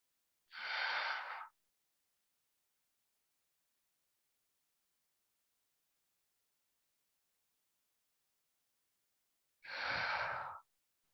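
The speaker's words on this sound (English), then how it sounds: "take a breath in through your nose and exhale out of your mouth" Two breathy airflow sounds during a yoga breathing exercise, about nine seconds apart, each a soft hiss lasting under a second, with silence between.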